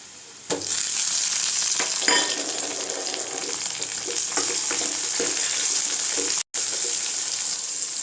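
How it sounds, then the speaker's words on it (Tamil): Tomatoes sauté in a pan for a potato curry, starting abruptly with a bright, steady sizzle marked by a few spatula scrapes and knocks, plus one short gap toward the end. "தக்காளி வதங்கிறது"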